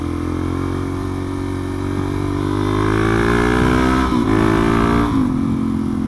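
Supermoto motorcycle engine droning steadily and rising in pitch as the bike rides through a mini roundabout, loud and close with no talking.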